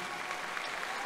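A concert crowd at the Zenith during a live zouk show gives a brief burst of dense, steady applause for a musician, close and continuous with no pauses.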